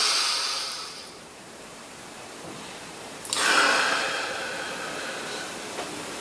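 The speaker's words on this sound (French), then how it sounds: "On inspire bien fort." Two strong breaths during a meditation breathing exercise: a long airy inhale fading at the start, then after a pause a sharp, loud rush of exhaled air that slowly tapers off, with no talking.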